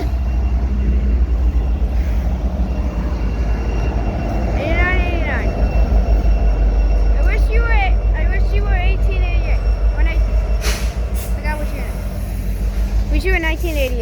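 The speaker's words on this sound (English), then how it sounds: "Seems to be a mixed freight train because it has more cars" Mixed freight train with many cars rolling past, a loud, steady low rumble of wheels on rails sustained throughout, with people chatting nearby over the noise.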